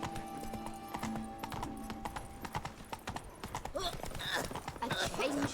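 Hooves of a horse clip-clop at a steady gallop in The Witcher 3 game world, close and continuous, with a brief whinny and a voice speaking over the first part.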